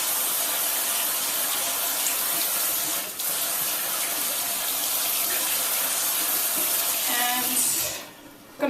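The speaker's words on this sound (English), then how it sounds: "So now I'm going to rinse my face." Tap water runs steadily into a sink while a face is rinsed, a close, even rush lasting about eight seconds before it shuts off.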